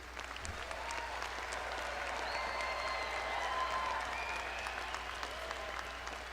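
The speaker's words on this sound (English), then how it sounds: "How about a big round of applause for all these graduates?" Sustained applause from a large audience honoring graduates at a university doctoral and master's commencement, a steady dense wash of clapping holding for several seconds with faint crowd voices mixed in.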